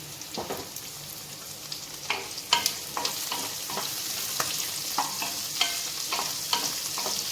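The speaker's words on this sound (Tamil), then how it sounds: "வெங்காயம் ஓரளவு வெந்த உடனே குடமிளகாய் சேர்த்துக்கலாம்" Onion and capsicum frying in a pan for chutney give a soft, continuous sizzle broken by regular scraping stirs of a spoon, close by with no voices.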